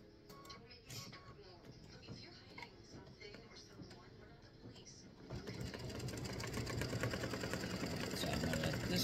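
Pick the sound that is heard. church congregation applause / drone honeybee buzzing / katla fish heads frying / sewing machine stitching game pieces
sewing machine stitching game pieces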